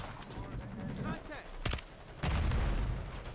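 Shotgun blasts in a first-person shooter video game: a couple of sharp, loud booms around the middle and a heavier burst near the end, set against game noise and ambient clutter.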